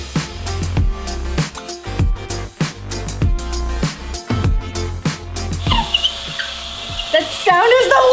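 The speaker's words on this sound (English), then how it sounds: "hole has to be so big, you have to drill for so freaking long and dust goes everywhere." A power drill bores a large hole through a ceiling during a room makeover, grinding loudly in repeated pulses, with a shrill whine and squeaky noises joining toward the end.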